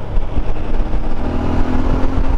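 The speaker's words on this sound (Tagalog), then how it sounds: "Maganda yung tunog ng makina" A CF Moto 450MT adventure motorcycle's engine drones steadily and loudly while the bike is ridden, with a dense, continuous low rumble and no talk.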